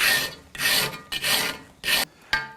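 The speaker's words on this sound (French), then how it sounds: "on va limer en croisant les passes" A metal hand file rasps across a long metal workpiece in crossed strokes, producing four or five distinct, close, gritty scraping passes with brief pauses between them.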